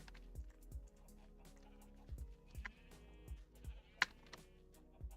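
Sheep in Minecraft bleat in a string of short, blocky game calls at irregular intervals, fairly quiet, with a few sharp clicks among them.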